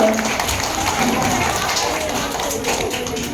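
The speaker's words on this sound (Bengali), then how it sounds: "একবার জোরে হাততালি হবে ওদের জন্য" Audience clapping at a dance school's Rabindra Jayanti program, a steady wash of applause from a crowd lasting throughout, with voices mixed in.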